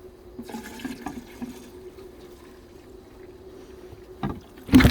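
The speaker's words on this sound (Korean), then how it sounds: "여기다가 이제는 술을 붓고 술을 더 붓고" Liquor pours into a metal can used as a hornet trap, giving a steady liquid trickle and gurgle with a few splashy bursts, ending in a loud close splash or clatter.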